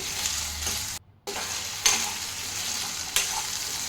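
Potatoes frying in a pan with methi, a steady bright sizzle broken by occasional scraping stirs and one brief silent gap, close and fairly loud.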